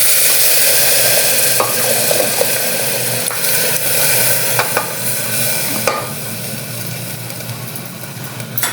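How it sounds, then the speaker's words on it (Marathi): Cooked chicken is poured into a hot pan and stirred, sending up a loud, constant sizzle with repeated scraping strokes of the spoon and a low hum underneath. "आता हे आपलं शिजलेलं चिकन ओतून घेऊ."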